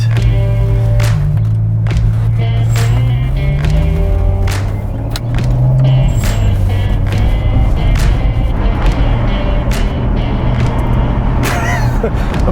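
Ferrari 599 SA Aperta, one of 80 built, with its engine running loud and steady throughout, a low drone that rises in pitch partway through before settling back, with no talk over it.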